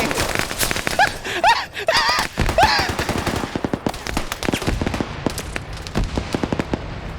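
Rapid gunfire as a player dumps a full magazine in a tactical shooter match, a dense run of close, sharp shots in quick succession, thinning into scattered bursts near the end.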